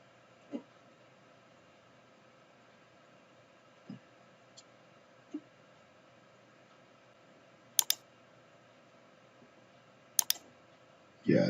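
A computer mouse clicks while someone works in Revit, building a generic model with the extrusion tool. The clicks are sparse, faint and sharp, some single and some in quick doubles, over a quiet room hum.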